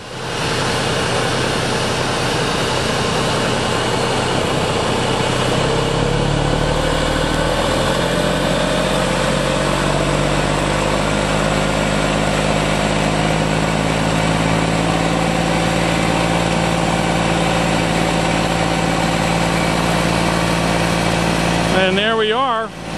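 A fire pump runs hard, charging an oscillating Blitzfire nozzle line on an Alpha Class foam trailer. A loud, steady engine roar rises in pitch as the pressure builds, with a brief change in the sound at the very end.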